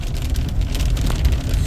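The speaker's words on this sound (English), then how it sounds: "It just won't stop raining." Heavy rain falling steadily near a car on a Saturday afternoon, a dense close rumble and hiss with a continuous wash of drops and no voices.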